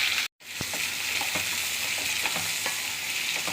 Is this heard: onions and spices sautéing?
yes